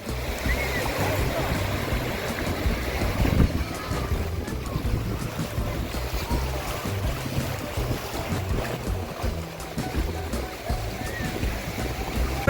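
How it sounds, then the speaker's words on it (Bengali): Sea waves at Bakkhali beach on a festive day, a steady broadband wash of surf with strong wind buffeting the microphone throughout, loud and continuous with no clear breaks. "সি বিচটা দেখুন একবার, বা সমুদ্রটা।"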